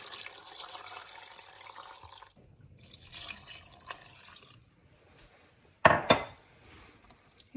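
Liquid poured over bones in a pot for homemade bone broth, a steady splashing stream that breaks off, resumes more softly, then ends with a loud clunk of a pot or utensil, close by.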